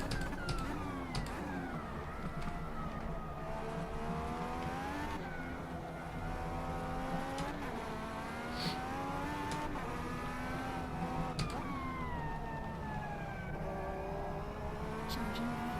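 IndyCar race cars in the Automobilista 2 racing game at the Indy GP whine continuously, the engine pitch sweeping up and down through gear changes, with scattered sharp clicks and no voices.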